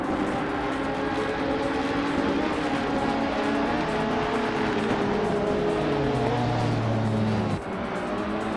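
Race cars roaring around a circuit and overtaking, engines whining and shifting pitch as they pass close and loud, with a brief dip near the end.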